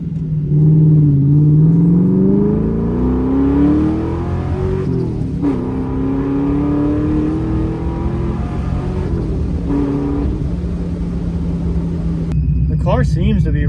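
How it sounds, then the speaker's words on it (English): A Ford Mustang, back on the road after sitting for two years, drives with a loud, steady engine rumble, rising and falling as it accelerates and shifts, close up throughout with no one speaking. "Car seems to be running great"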